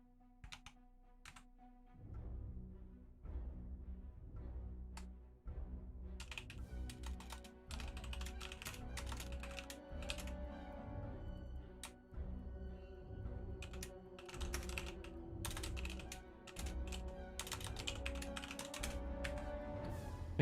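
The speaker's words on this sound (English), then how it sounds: "I think they're typing." Rapid keyboard typing during a Halo Wars 2 showmatch stream, steady clusters of clicks and clacks running throughout over a low background hum, fairly close and moderately loud.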